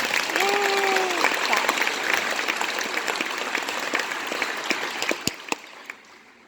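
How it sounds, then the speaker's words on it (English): Audience at a Christmas school concert applauds the band council, a dense steady clapping that slowly thins and fades, with a few louder individual claps near the end. "let's give them a round of applause"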